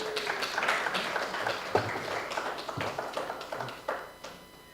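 An audience claps in welcome for a speaker at a youth debate, the applause steady and moderately quiet, with distinct individual claps standing out sharply over several seconds.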